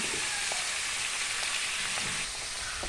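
Salted food is stirred in a frying pan under a constant dense sizzle, with a few soft spoon taps and scrapes rising above it. No voices are heard.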